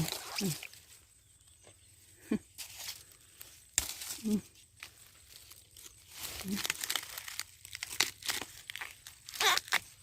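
Bamboo shoots are snapped off by hand outdoors, giving repeated crisp cracking and tearing bursts at irregular intervals, with brief speech between the breaks.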